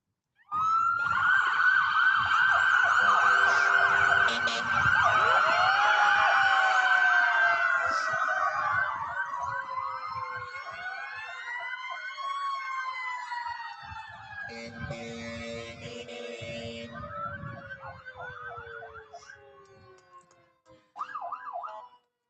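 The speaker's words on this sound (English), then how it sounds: "Would you give us some sirens at this time?" Multiple fire truck sirens from Mason County fire departments wail loudly together in a lights-and-sirens tribute, rising and falling in overlapping tones, with horn blasts midway before fading out near the end.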